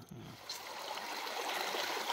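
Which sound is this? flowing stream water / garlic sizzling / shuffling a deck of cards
flowing stream water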